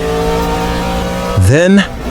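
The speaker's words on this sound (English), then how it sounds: "The engine screams." A race car engine holds a loud, steady, high-pitched scream close by, then a voice speaks briefly over it near the end.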